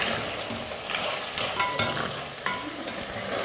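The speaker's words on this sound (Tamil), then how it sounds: "ஒரு 2 நிமிஷம் நல்லா வதங்கட்டும்." Mutton pieces coated in masala fry in a pan for goat head curry, giving a steady sizzle with scraping stirs and occasional sharper clinks, close and fairly quiet.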